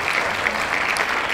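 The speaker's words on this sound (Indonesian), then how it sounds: "Tepukan untuk Diana Amir." Steady applause from an audience at a hijab fair gathering in Kuala Lumpur, a brief continuous wash of clapping at moderate loudness with no voices over it.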